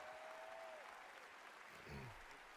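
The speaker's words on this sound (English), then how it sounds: "let's give a big round of applause to these two guys for the Great Circle" A large audience at The Game Awards applauds in a steady, dense wash of clapping heard at a distance, faint and even throughout with a slight swell near the end.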